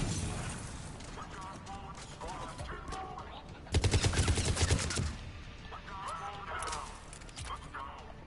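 Sniper rifle fire in a video game, a loud burst of rapid shots with mechanical clatter, heard close under a player's excited talk.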